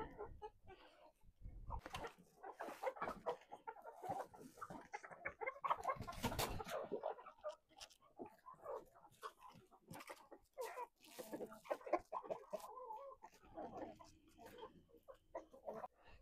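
Hens cluck softly while pecking at cabbage leaves tossed to them, with faint, irregular clucks and pecking noises close by in a quiet setting.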